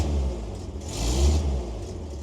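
An old Ford or Chevy truck engine idles nearby, a steady low rumble with a slight swell in revs partway through, heard alone.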